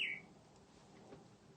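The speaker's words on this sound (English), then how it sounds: "It really is a clock that chirps a different bird every hour." A bird clock sounds its hourly bird call: one short, bright chirp right at the start, then fading into a quiet room.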